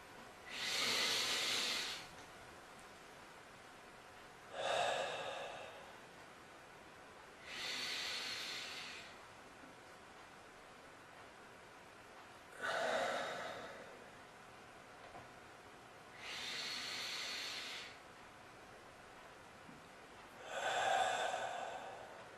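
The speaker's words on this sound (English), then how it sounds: "you start off by taking between 3 and 5 really good massive breaths in" Six deep, forceful breaths drawn in one after another with pauses between, each a loud rushing airy inhale lasting one to two seconds, close and alone with no talking.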